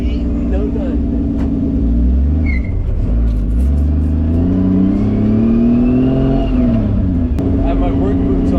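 Inside a Mazda Miata fitted with a swapped 2JZ engine, the engine drones and revs with rising and falling pitch as the car is driven on a road, loud and close, while a person talks.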